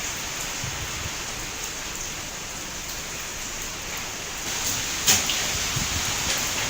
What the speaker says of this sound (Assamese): বৰ্তমানো ধুমুহাৰ লগতে মজলীয়া বৰষুণ অব্যাহত আছে